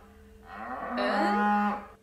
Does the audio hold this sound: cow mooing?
yes